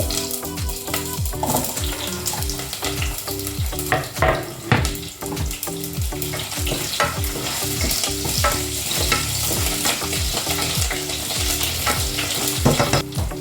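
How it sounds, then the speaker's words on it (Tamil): Mustard seeds, green chillies and garlic fry in hot oil for a South Indian meal, a steady close sizzle broken by a fast run of sharp scraping stirs from start to finish, with no voices. "கடுகு நல்லா பொரிஞ்சதுக்கப்புறமா பச்சை மிளகாவையும் பூண்டையும் ஆட் பண்ணிக்க போகிறேன்."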